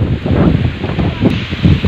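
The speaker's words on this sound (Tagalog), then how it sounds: "Medyo mahangin na rin po ngayon." Steady wind roars across the microphone in an open cornfield, a continuous low buffeting rumble with gusts swelling and easing, no voices.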